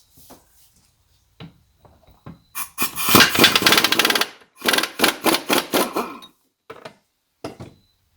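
Sharp metal hammer strikes unstaking nuts on a Suzuki Vinson ATV engine case during a rebuild, a few scattered taps followed by two bursts of rapid, loud, ringing blows close by.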